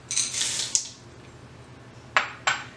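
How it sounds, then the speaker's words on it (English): Chocolate chips being added to keto zucchini bread batter in a kitchen, a close rattly scatter of small pieces hitting a bowl, then quiet, followed by two sharp clinks of a utensil against the dish. "Now add your chocolate chips."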